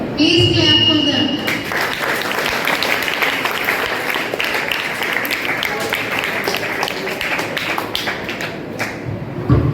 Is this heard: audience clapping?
yes